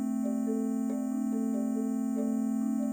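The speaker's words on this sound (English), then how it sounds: "We now get this new sound, and it feels a lot more harmonic" Combined synthesized sound waves forming a harmonic tone: a steady electronic hum with a higher pitch stepping between notes, clean and continuous.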